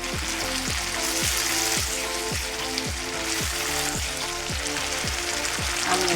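Beef sizzles and fries in hot spiced oil in a pan while cooking a spicy red beef curry with beetroot, a steady loud crackling hiss close up with a regular rhythmic tapping underneath.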